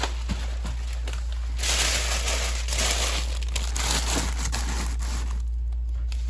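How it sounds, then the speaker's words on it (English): Packing paper crumpled up nearby in bursts of loud crinkling and crackling, with quieter handling sounds between. "crumple it up."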